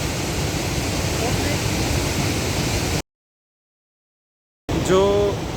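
A Himalayan waterfall on the Manimahesh trek in Himachal Pradesh gives a loud, dense, steady roar, broken by a sudden gap of silence, then returns with a voice speaking close over it.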